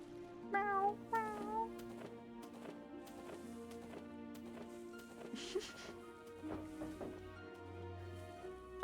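A person imitates a cat with several short, rising meows near the start, made over steady game music from a Hollow Knight playthrough.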